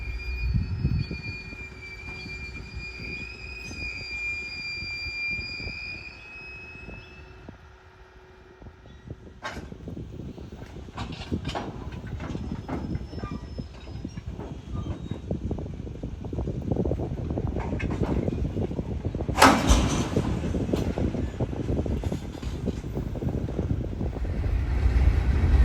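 Union Pacific freight train UP 3053 on the La Grande Subdivision meets an eastbound stack train, a low rumbling and rolling rail noise building gradually, with wind noise and a distant high tone early on.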